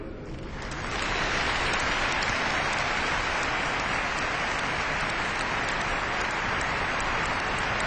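Congregation applauding at an evening Christmas Mass, a dense, even wash of clapping that swells within the first second and holds steady, hissing like rain, with no voices over it.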